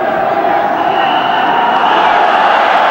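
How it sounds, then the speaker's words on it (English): A packed cricket stadium crowd at an India versus Pakistan match, a steady roar of cheering and noise that stays loud and continuous throughout, with a commentator's voice blended in. "And the crowd very much participating in what's going on."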